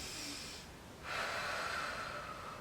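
A deep breath drawn during a beginner Pilates stretch on an AeroPilates reformer: a soft, airy inhale and a fuller exhale, close and quiet, with no talking.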